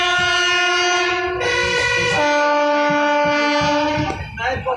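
A train pulls into Naini railway station, its loud, sustained horn sounding close with shifting tones, over rolling rail noise for several seconds.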